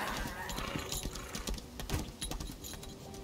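Horse hooves clip-clopping in the Lost Ark video game, a quick, irregular run of soft thuds and clacks over a faint ambient game background.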